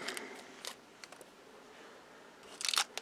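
Plastic parts packs for a GT500 Eleanor model car kit are opened, giving faint crinkles and small clicks followed by a brief, louder rustling crackle at the end.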